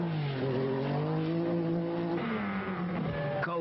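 Rally car racing flat out on a muddy forest stage of the 1983 Haspengouw Rally, a close engine holding a steady high drone before shifting pitch, with a brief rough burst near the end and no talk.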